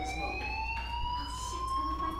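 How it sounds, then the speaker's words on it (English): A fire alarm in the Life is Strange video game sounds as a steady electronic tone with rising harmonics, continuous through the whole short stretch over a low background hum. "Hey, do you hear that fire alarm?"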